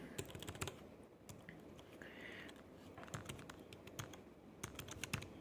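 Code is typed on a computer keyboard in quick bursts of close key clicks with short pauses between, quiet and alone with no voice.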